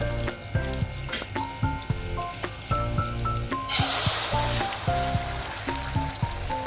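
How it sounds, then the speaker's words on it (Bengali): Butter and oil sizzling as beaten egg hits the hot pan, a steady crackle that brightens partway through, under upbeat background music. "আরও অল্প পরিমাণে বাটার আর সাদা তেল দিয়ে আমি ফেটানো ডিমটাকে আমি কড়াইয়ের মধ্যে দিয়ে দেবো"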